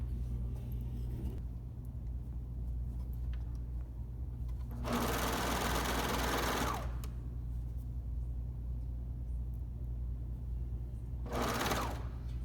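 A serger sewing machine stitches a pocket seam on track pants, running in two bursts, a longer one and then a short one, over a steady low hum, with no talking.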